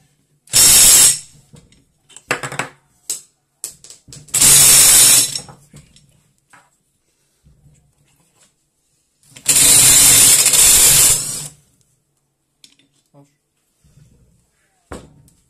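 Loud bursts of a ratchet wrench clicking rapidly on a socket while dismantling a 140YX quad engine, several separate runs with pauses between, close by, with scattered mechanical knocks.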